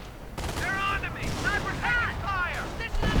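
Artillery and gunfire in a strategy video game, a dense run of booms and shots layered over a continuous roar, with talk running underneath throughout.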